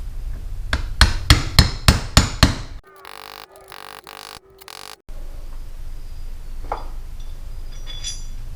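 Parts tapped in with a hammer while setting up a portable hoist to remove a fifth wheel hitch: six sharp, evenly spaced metallic knocks close by, followed by a stretch of muffled mechanical noise.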